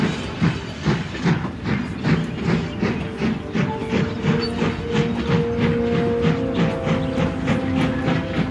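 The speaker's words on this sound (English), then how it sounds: "Bert hauled his trucks and made his way out of Rolf's Castle and onto the main line." A train hauling trucks rumbles along steadily with rhythmic clickety-clack of wheels over rail joints, a continuous mechanical chugging and a faint hiss throughout.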